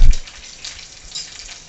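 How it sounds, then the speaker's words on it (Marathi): Ginger-garlic paste, garlic and chilies with turmeric are sautéed for a tomato curry, giving a loud, continuous sizzle with a brief stir or clatter at the start. "हे चांगले मिश्रण असे परतून घ्या।"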